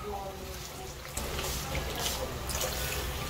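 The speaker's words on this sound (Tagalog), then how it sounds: "Lagyan na natin ang tubig." Water pours from a tap into a cooking pot for ginisang monggo with chicken and malunggay, a broad rushing splash that grows fuller after a second and keeps running steadily.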